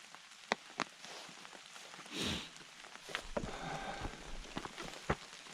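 Rain patters on a tent while camping in mountain lion country, with scattered sharp drops and taps over a soft, steady hiss; the drumming sounds close and fairly quiet overall.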